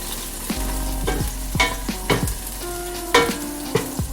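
Garlic frying and being stirred in a pan, with a steady sizzle under repeated scraping and clattering strokes of a utensil, close and fairly loud, no talking.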